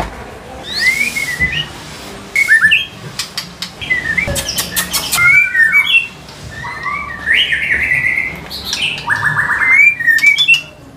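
A white-rumped shama, a bird being sold at a market in Jakarta, sings loud and close in varied whistles and chirps, with phrases repeating through the clip and no talk.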